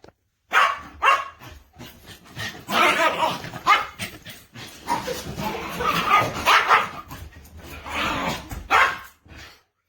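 A puppy barks and yips repeatedly in close, energetic bursts with whimpering and a slight growl mixed in, the barks coming in uneven clusters over several seconds.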